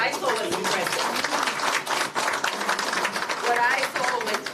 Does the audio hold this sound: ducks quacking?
no